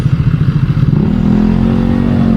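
An adventure-style motorcycle of roughly 800 to 1,000 cc making a U-turn, its engine loud and close, a pulsing idle rising into a steadier revving drone as it pulls around.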